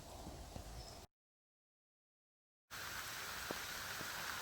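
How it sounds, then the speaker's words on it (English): Rain falling at Balcombe Lake on a windy day, a soft steady hiss of drops with occasional heavier patters, cut by a brief stretch of total silence before resuming. "Well, this is Balcombe Lake in the rain."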